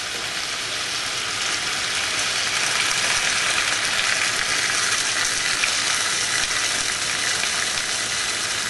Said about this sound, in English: to our dish we are going to add about 1/2 cup of rice vinegar